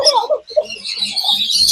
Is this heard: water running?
no